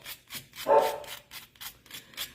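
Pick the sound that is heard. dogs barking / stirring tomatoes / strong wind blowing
dogs barking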